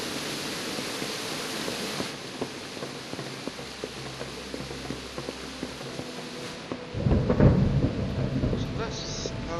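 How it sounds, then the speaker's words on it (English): Rain and thunder in the medieval role-playing game Kingdom Come Deliverance, steady hissing downpour throughout with a low rumble of thunder building and swelling loudly near the end. "It's raining again."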